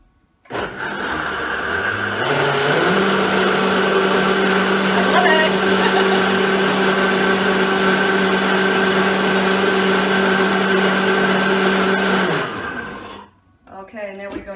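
A blender whirs up a raw vegan cheesy sauce, its motor spinning up to a loud, steady drone with strong harmonic hum for about twelve seconds before cutting off abruptly, followed by faint clatter.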